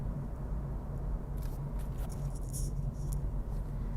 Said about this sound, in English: The traffic on Magnolia Boulevard.